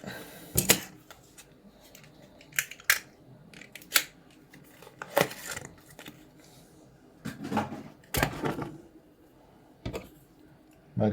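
Scissors snipping material while building an air-powered rocket, a series of sharp, close, irregular cuts separated by short quiet pauses.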